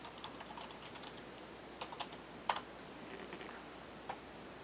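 Computer keyboard keys tapped sparsely and faintly for a login name and password at an Orange Pi terminal, soft scattered clicks over quiet room hiss.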